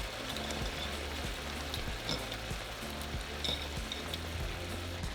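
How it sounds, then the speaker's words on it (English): Shrimp frying in a hot pan for steak and shrimp tacos, giving a steady, moderately quiet sizzle that holds even throughout with no talking. "And we're going to throw in our shrimp. And the shrimp cooks pretty fast."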